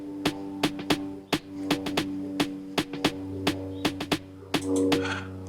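A simple snare pattern in an Afro House beat made in FL Studio, with sharp crisp hits landing in a steady, sparse rhythm over a sustained low tonal bed.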